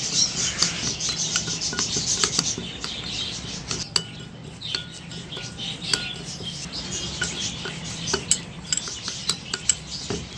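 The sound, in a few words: mixing walnut shell face mixture in a bowl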